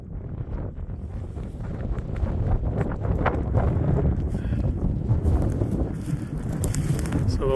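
Strong wind buffets the microphone on an exposed Appalachian Trail mountain summit, a steady loud roar and rumble that swells and holds throughout with faint gusty hiss on top.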